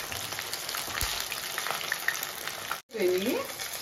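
Chicken pakodi frying in hot oil, a steady dense sizzle with crackling pops throughout, briefly cut off near the end before resuming with a clink of a utensil.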